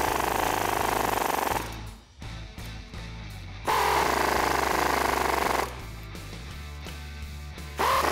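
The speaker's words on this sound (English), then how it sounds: "go ahead and grab a 17 mil socket, get these driven home" A power impact tool with a 17 mm socket hammers studs into a front leveling kit spacer on a 2004-2019 Ford F150, two loud rattling bursts of a few seconds each with quieter pauses between.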